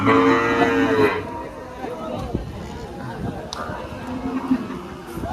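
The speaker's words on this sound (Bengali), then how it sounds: "এই যে একটা গরু আছে তাজা এগুলো" Cattle at a cattle market in Faridpur let out a loud, low, drawn-out moo at the start, followed by the murmur of crowd chatter and market bustle.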